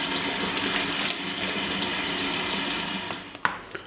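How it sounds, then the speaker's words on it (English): Running tap water pours over salted cabbage being rinsed in a colander, a steady close splashing rush with a small clunk near the end and no speech. "You'll want to agitate the cabbage under running water for several minutes"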